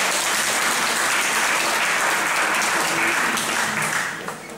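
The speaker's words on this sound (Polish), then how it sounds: "Bardzo proszę o klaski dla tych naszych." Applause fills a formal council session hall in Nowa Huta, Kraków: dense, loud, even clapping from a seated audience that thins slightly in the last moment.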